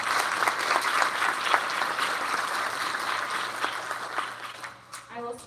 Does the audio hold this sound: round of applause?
yes